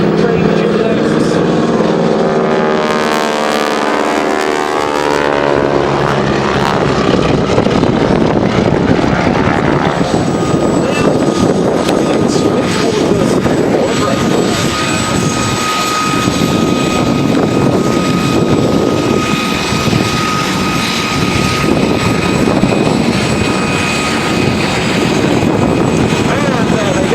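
Model 75 biplanes fly overhead at Duxford Air Festival, a loud continuous propeller-engine drone that swells and shifts pitch as they pass, with a voice talking over it.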